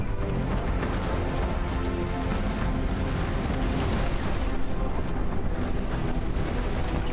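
A loud, dense rumble of explosions from a combat video game, with a dense wash of noise that stays intense and unbroken throughout, heard alone with no talking.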